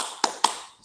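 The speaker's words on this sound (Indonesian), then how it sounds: "Bapak kasih contoh. Tepuk semangat." Two sharp hand claps in a classroom, evenly spaced and close, with a short quiet pause after them, the start of a rhythmic spirited clap pattern.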